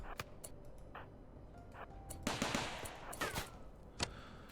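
A RimWorld turret fires in quick, sharp bursts of clicky shots, scattered bursts across a faint background with a louder cluster midway and single cracks afterward.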